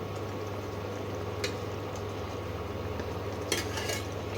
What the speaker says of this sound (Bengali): সব মাছগুলোকে এরকম ঝোলের মধ্যে দিয়ে দেবে, তাহলে মাছগুলো মশলার মধ্যে ঝোলের মধ্যে সেদ্ধ হয়ে যাবে